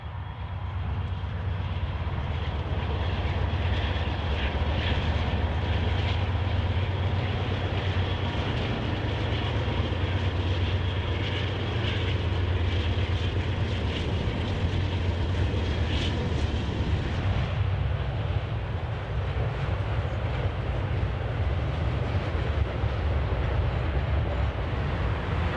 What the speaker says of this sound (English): Here, a couple of GEs chug as they gather speed with a high-priority intermodal train.